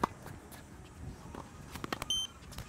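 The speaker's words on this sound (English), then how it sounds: "So you see that when the ball is in, you have one beep." An electronic tennis line-calling device mounted on the net post gives a single short beep to signal a ball landing in, heard once near the end over faint court ambience and scattered ball impacts.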